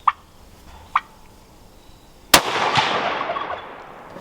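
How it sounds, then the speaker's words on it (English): Outdoors, a wild turkey answers a rifle shot: a few faint distant pops, then one sharp crack followed at once by a loud, rolling gobble that fades away. "I'm convinced he's going to gobble every time you shoot."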